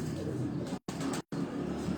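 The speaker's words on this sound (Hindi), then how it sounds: "ये बेस वो कबूतर है, नर है" A male pigeon coos in soft, low, repeated bursts close by, broken by two short silences.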